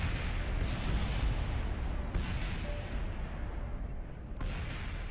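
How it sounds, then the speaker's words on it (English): Rumbling explosions from the Kerbal Space Program video game, a dense continuous roar with a few sharper bursts rising out of it, heard alone without talk. "Explosions everywhere."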